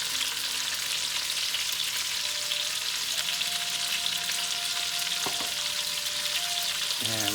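Red pepper, onions and garlic sizzling in hot oil in a pan for chicken cacciatore, a steady dense crackle close by, with faint stirring scrapes near the end.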